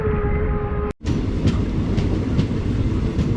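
A Punalur–Tenkasi passenger train running on rails in rainy weather, with a loud steady rumble and periodic wheel clacks over rail joints, preceded by a humming tone that cuts out abruptly.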